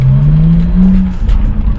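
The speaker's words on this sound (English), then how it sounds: "There's some serious misfiring at cylinder 6." Idling BMW engine misfiring at cylinder 6, a loud, close, low rumble with an uneven hum that stumbles and wavers partway through.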